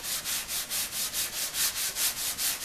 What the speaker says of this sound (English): Sometimes I'll even sand in circles